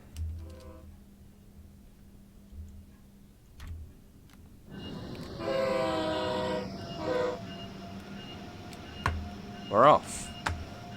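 An Acela Express train on the Northeast Corridor rumbles along with a low steady drone, then a horn sounds in a loud sustained blast midway, followed by a shorter sharp blast near the end; a voice talks briefly.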